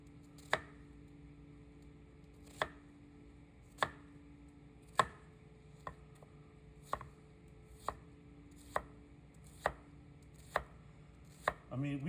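A chef's knife chops through an onion on a cutting board in slow, evenly spaced strikes, about ten sharp taps across the stretch, close and crisp over a faint steady hum.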